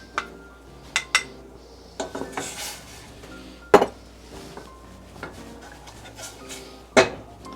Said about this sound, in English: Let's use the whisk for that